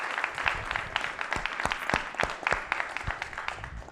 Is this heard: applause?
yes